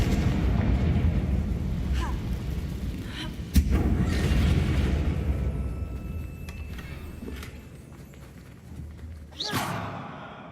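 A Confringo fire spell is cast in the Hogwarts Legacy video game, landing as a sharp explosive crack among dense game noise and rumble, with a second burst near the end.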